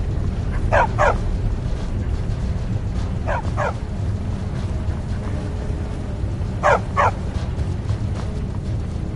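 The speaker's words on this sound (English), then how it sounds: "Don't mind the dogs. They get anxious when they haven't had dinner." Dogs in the video game Skyrim bark in short paired yips, three bursts spaced a few seconds apart over a low steady background murmur of a castle interior.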